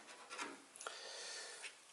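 A popsicle stick rubs and scrapes lubricant into a keyboard stabilizer socket, giving a faint, close, dry scratching that swells and fades in short strokes, with no talk.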